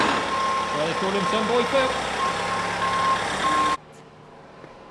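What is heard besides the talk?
lorry reversing with reversing beeps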